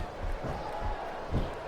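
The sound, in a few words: wrestling crowd cheering in video game SmackDown vs Raw 2007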